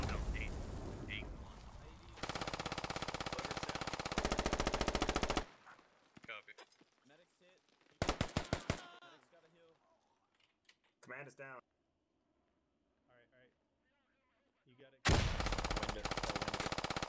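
Gunfire in the military shooter game Squad: long bursts of sustained automatic fire alternate with sharp single shots and quieter gaps, loud and close.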